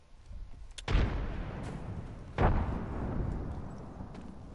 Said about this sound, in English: Alright, frag out!